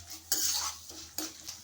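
Lentils and coriander seeds are stirred as they dry-roast in a pan. A spoon scrapes and rattles in two separate strokes, with a faint sizzle beneath, close up and with no talking.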